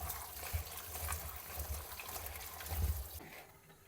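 Green bean pods rinsed under running water, a faint continuous trickle and splash with uneven surges, fading out near the end.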